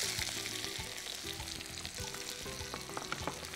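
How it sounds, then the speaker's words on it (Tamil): Bay leaf, star anise, cinnamon, fennel and onion frying in hot oil, a steady soft sizzle with faint stirring clinks, no talking. "தாளிக்கிறதுக்கு பிரிஞ்சி இலை, அனாசிப்பூ, பட்டை, சோம்பு தாளிச்சுக்கோங்க, வெங்காயம்"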